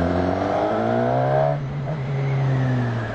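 A Suzuki Katana's four-cylinder engine accelerating, loud and steady as its pitch rises smoothly, then dipping briefly at a gear change before climbing again under wind rush, with no talking.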